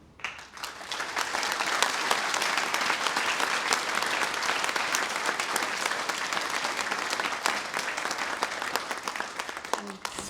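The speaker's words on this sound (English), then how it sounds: "So I think we all owe a huge, huge, huge round of applause to them." An audience claps at a concert, a dense sustained round of applause that swells quickly and holds for about ten seconds before easing off.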